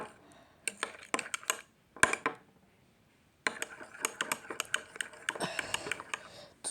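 Glue being stirred to make slime, heard as close, quick clicking and tapping scrapes of a utensil against a container, coming in rapid bursts with a short quiet gap partway through.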